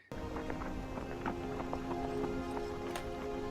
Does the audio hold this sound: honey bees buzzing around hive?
no